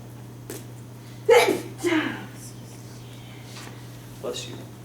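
A single sneeze from a person in a classroom during an algebra lecture, a sharp burst followed by a softer trailing breath, heard at moderate distance over a steady low electrical hum.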